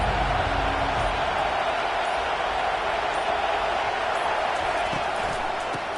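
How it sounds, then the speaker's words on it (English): Roaring home crowd at a Texas football game, a loud, sustained stadium din of cheering and shouting that holds steady throughout the clip. "This crowd trying to show them what it's going to be like all day in this house."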